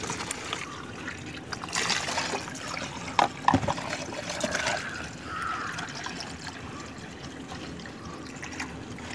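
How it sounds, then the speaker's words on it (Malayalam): Water poured into fish amino to dilute it: a steady close trickle and splash of liquid running throughout, with a brief louder burst midway and no voices. "ഇതിന് ഇനിയിപ്പോൾ ഒന്ന് വെള്ളം ചേർത്ത് നല്ല ഡൈലൂട്ട് ചെയ്യാം."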